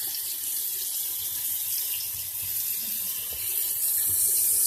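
Tap water runs steadily into a sink in Flint, Michigan, with the tap switched to hot, a continuous close hiss and splash with no voices.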